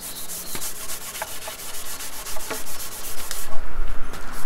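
A cloth rubs finish into a pine wood shelf in repeated close strokes, a scratchy swishing rhythm that grows busier and louder near the end, no talking.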